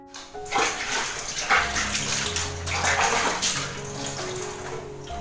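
Water from a pipe laid into a coconut tree pours out in a strong, continuous gushing rush, loud and close, with a splashing churn and no voices.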